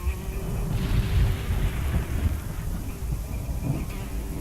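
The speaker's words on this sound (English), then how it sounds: "So much thunder in the air." Low rolling thunder rumbles in the adventure game Chaos on Deponia, a steady dense roar with swelling booms that stays loud throughout with no talking.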